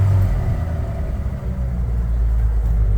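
A Toyota FJ Land Cruiser engine hums low and steady from inside the cabin while the truck creeps along at about ten miles an hour in low range, with constant rumble and no talking.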